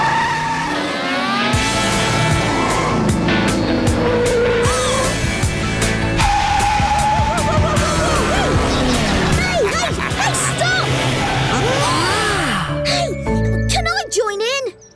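Cartoon race cars tear around a track in a practice race, engines roaring loudly and continuously with tire squeals and skids, voices and music running throughout.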